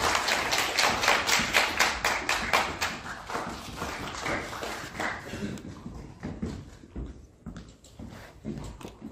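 An audience at an election-candidate event applauds with loud clapping that gradually thins out and becomes more scattered, ending in irregular individual claps.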